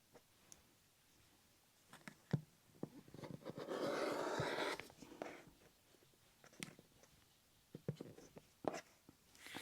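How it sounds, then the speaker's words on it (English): A rotary blade slices through quilt fabric along a sewn seam line, a quiet crunching and scraping cut that swells for a couple of seconds in the middle, surrounded by soft clicks and handling noises. "I'm going to actually cut on that line."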